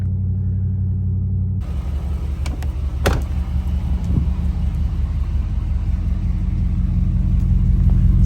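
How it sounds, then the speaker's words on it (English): A Mercedes E60 AMG drives along with a deep, steady engine rumble close by, the low drone building gradually over several seconds, with a few brief higher transient sounds early on and no talking. "This car sounds so good."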